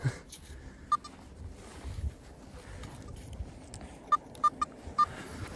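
Short electronic beeps from a metal detector at a lakeshore dig: a single tone, then a quick cluster of several beeps near the end, heard over steady wind and rustling with no speech.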